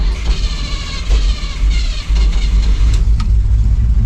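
A truck's carbureted engine cranking, catching and revving, loud and close, with a rough uneven roar that dips briefly and then settles into a running rumble.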